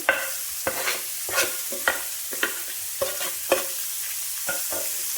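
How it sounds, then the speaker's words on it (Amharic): Finely chopped red onion fries in the same pan that browned chicken, stirred with repeated scraping strokes about every half second over a steady sizzle, close and clear with no talking. "ሽንኩርታችን በደንብ አድርገን እናማስለዋለን።"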